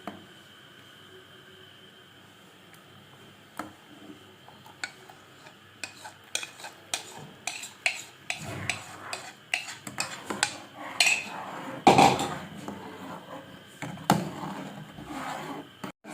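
Custard and sugar stirred in a cooking pot, with a spoon scraping and clinking against the metal in uneven strokes that grow louder toward the end, plus a faint sizzle underneath.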